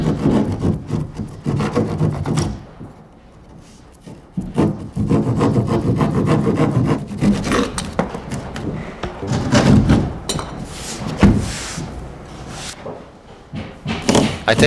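Thin drywall panel edge being trimmed before fitting into a corner: rough, scraping rasps come in close, uneven strokes with short pauses and a few dull knocks.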